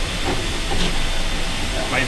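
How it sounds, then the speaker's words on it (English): A continuous soft hiss of escaping steam from a steam locomotive, steady and close, with faint mechanical rumble beneath it. "You can just hear the hiss a little bit, so give it a tiny bit of steam"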